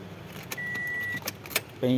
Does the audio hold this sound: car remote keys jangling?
yes